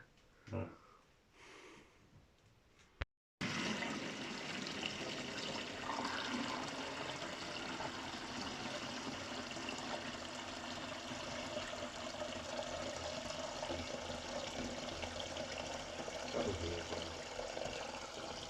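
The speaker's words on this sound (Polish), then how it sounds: "Prosto z kranu leci Blackwater." Tap water runs steadily and hisses from a kitchen faucet, a loud continuous rush that begins abruptly after a short pause, with a voice talking faintly over it at first.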